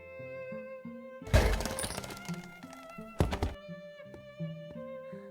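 A wooden chair breaks in an animated fairy tale, with a loud crash and splintering crack over light music, then a second sharp crack a couple of seconds later, followed by softer taps.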